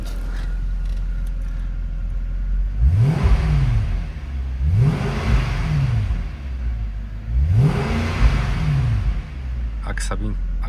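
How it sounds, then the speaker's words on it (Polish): A 2007 Mercedes-Benz CL 63 AMG with a 6.2-litre V8 is revved gently three times, each blip rising and falling smoothly over a steady idle, close by. "Jeszcze zrobimy delikatną przegazówkę."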